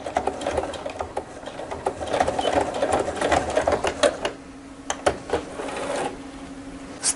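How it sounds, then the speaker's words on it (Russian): A sewing machine stitches a zippered welt pocket in fabric, with close, rapid mechanical rattling in short runs that stop and restart between pauses as the seam is turned and backtacked. "Разворачиваемся, входим в строчку и ставим закрепку."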